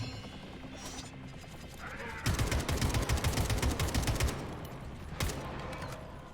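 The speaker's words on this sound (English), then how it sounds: "Kalashnikov." Kalashnikov rifle fire in the Atomic Heart video game during a boss fight, a sustained burst of rapid automatic shots lasting about two seconds, followed by a single later shot amid game sounds.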